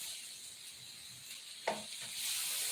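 Taco shells toasting in a pan for lobster tacos, a steady soft sizzle with one brief scrape or clack partway through as they are turned, quiet and without speech.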